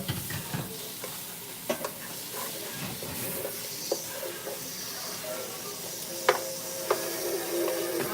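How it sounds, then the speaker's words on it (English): Onions sautéing in chicken drippings, a steady soft sizzle and hiss from the pan with occasional scrapes and clicks of a utensil stirring, fairly close and moderate in level. "I'm gonna saute these onions in these drippings"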